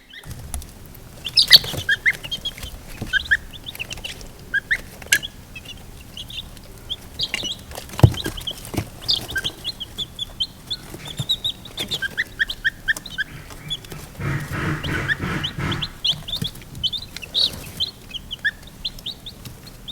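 Young chicks and a gosling peeping and chirping close by, a steady stream of high, overlapping cheeps with occasional wing flutters and handling noises.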